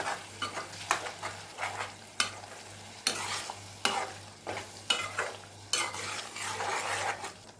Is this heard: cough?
no